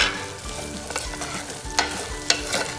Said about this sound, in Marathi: चार चिरलेले कांदे त्याच्यामध्ये आपण टाकणार आहोत आणि मस्त असं गोल्डन ब्राऊन करून घेणार आहोत